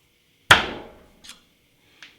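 A single sharp metallic tap breaking off a snapped thread insert piece in a stripped bolt hole, followed by two fainter lighter taps, close and isolated against silence.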